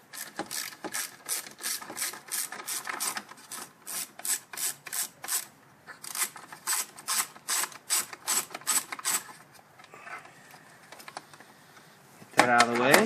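A ratchet backing out a 7mm bolt on the throttle body snow shield of a Ford Focus or Escape 4-cylinder engine, giving quick bursts of sharp, rhythmic clicking, close and clear, with a brief rustle at the end.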